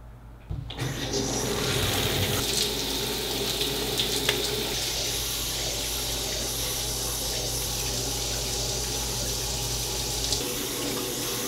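Steady, loud rush of running water from a shower, a continuous spray that starts abruptly and holds constant with no voices.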